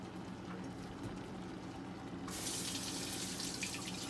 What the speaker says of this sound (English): I'm just going to rinse it off, y'all, because there was sauce on the side.